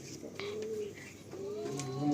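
Large pigeons coo softly in a loft, a few low, breathy calls repeating close by over a faint background hum.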